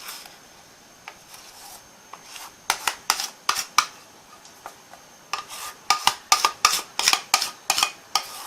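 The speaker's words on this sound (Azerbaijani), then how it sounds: "Deməli, indi testamı əlavə edirəm." Cake batter going into a nonstick pot for a pot-baked cake, heard as a spoon scraping and tapping against the cookware, sparse at first and then in quicker, louder bursts, close up with no talking.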